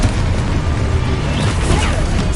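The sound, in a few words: explosion spells cast in Hogwarts Legacy video game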